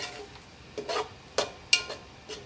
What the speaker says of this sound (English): So I'm just going to scrape any browned bits off of the bottom.